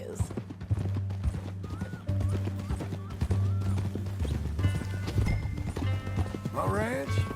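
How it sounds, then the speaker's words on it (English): Horse hooves clip-clop in a steady walking rhythm on hard ground, close and clear, while people talk over them and a horse whinnies briefly near the end. "That new horse?"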